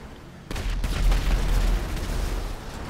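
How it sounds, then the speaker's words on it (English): A sudden heavy explosion in Grand Theft Auto bursts in, followed by a deep rumbling roar and crackling debris that lingers at high volume before easing slightly. "Explosion!"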